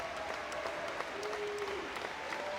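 At a state high school swimming championship in Oklahoma, an indoor crowd keeps up steady applause and cheering for a swimmer near the finish, with whistles cutting through the roar.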